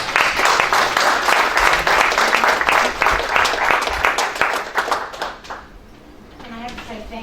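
An audience at a presentation claps loudly and steadily for several seconds before the applause thins and fades out, with a voice talking near the end.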